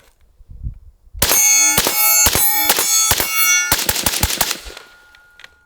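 Steyr AUG bullpup rifle firing about five loud, sharp ringing shots at a steady pace, then a quicker burst of five or six more, with no talking.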